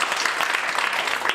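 Audience applause at a political conversation event, a steady wash of clapping from a crowd held at even loudness for a brief moment.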